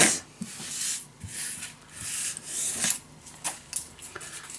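Paper is cut for a handmade mini album, giving irregular crisp snips and rustling scrapes at close range, in uneven bursts separated by short pauses, with no speech.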